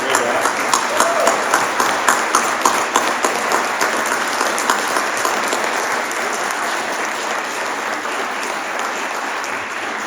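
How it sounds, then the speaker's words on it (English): Audience applause fills a Veterans Day ceremony at the MatSu College in Alaska, honoring a guest: steady, dense clapping from a sizeable crowd that holds at full strength for about ten seconds. "just one more round of applause for this great American"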